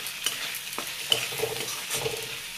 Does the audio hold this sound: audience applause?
no